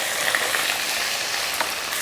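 Golden onions fry in hot oil with garlic-ginger paste for a chicken and beetroot curry, giving a close, steady, crackling sizzle with no voices.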